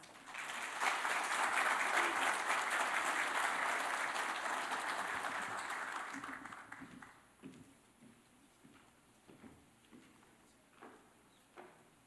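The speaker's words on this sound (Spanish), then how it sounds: "los recibimos con un fuerte aplauso" Audience applause at a credit and collections business conference session fills the room loudly for about six seconds, then thins to scattered claps, rustling and faint voices.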